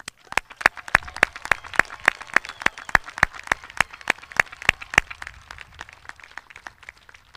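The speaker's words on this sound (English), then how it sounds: "One more round of applause," Graduation ceremony applause made of a few sharp, close hand claps in a fast steady rhythm, with fainter crowd clapping in the background, gradually thinning out toward the end.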